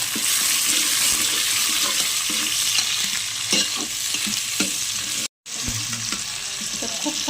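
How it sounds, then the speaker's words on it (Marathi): Tomato sizzling and frying in a hot pan as it is sautéed, with steady crackling sizzle and occasional scraping stirs, close and continuous, briefly cut off once. "टमाटा चांगल्या पद्धतीने परतून घ्यायचा."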